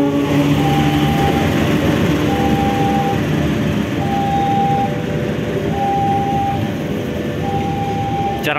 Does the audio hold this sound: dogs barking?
no